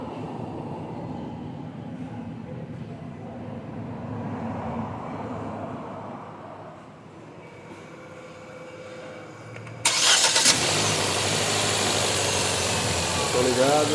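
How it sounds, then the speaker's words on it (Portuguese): A car engine is started during a misfire diagnosis; after a stretch of people talking, a loud broadband roar kicks in abruptly and holds steady to the end. "agora vamos ligar o motor lá."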